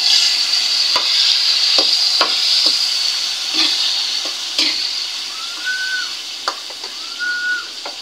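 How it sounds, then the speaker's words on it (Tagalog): Tomatoes mashed and stirred in a sizzling frying pan: a steady loud sizzle with repeated scraping knocks from the utensil, plus a couple of faint rising whistle-like tones in the background. "Tangkotsa ko muna ang kamatis. Kailangan lumabas yung juice."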